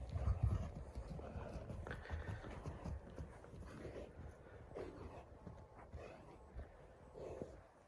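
Steady clip-clop of a horse's hooves walking on the ground, close and continuous, with a dull low rumble beneath and no talking.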